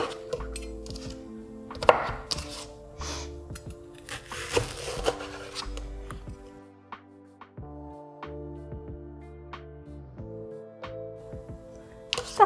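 A knife chops half a leek on a cutting board, giving a string of crisp, close knocks in short bursts with brief pauses between them, no talking.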